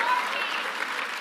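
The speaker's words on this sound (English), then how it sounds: "What are you clapping about?" Steady, dense audience applause fills the whole moment, a continuous wash of many hands clapping at close range.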